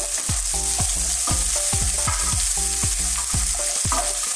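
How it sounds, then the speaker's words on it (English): Chopped onion for Filipino menudo stirred in a hot pan, giving a bright steady sizzle broken by regular spoon scrapes and knocks about twice a second, close and loud with no voices. "the onion, chop, stir it"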